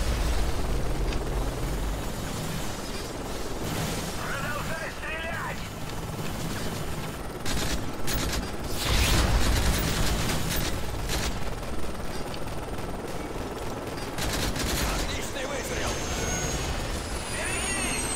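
Gunfire and explosions from the video game Call of Duty Modern Warfare 3 crack in sharp bursts over dense rumbling battle noise, with voices talking throughout.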